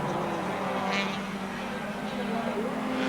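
A BMW Group C touring car racing at Surfers Paradise International Raceway in 1984, its engine droning steadily at a distance beneath continuous commentary voices.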